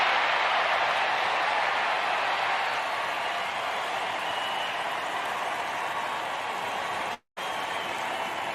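Baseball crowd at a Giants versus West Sacramento A's game roaring after Ramos's home run to center field, a steady, dense wash of cheering that holds loud throughout and breaks off briefly near the end.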